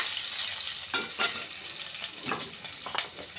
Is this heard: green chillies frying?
yes